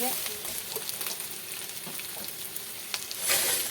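Soaked dried fish (shutki) frying in a pan, a steady broad sizzle with scattered crackles and occasional stirring scrapes, growing briefly louder near the end.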